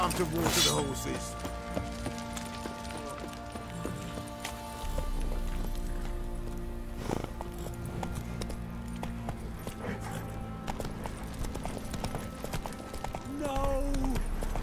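Horse hooves clop rhythmically in a gallop in The Witcher 3: Wild Hunt, steady and fairly close under game music and brief character voices.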